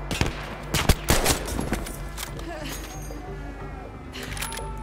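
Gunfire in the video game Battlefield V, a cluster of sharp shots and bursts early on, then quieter game ambience with faint mechanical clicks and a later flurry.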